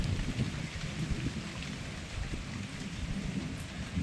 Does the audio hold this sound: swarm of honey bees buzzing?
no